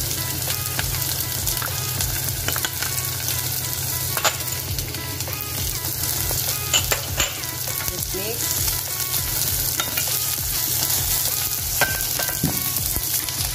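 Chili paste and garlic fry in a pan for a Malaysian Indian-style chicken curry, giving a steady, close, loud sizzle with scattered pops and scraping stirs throughout, and no talking.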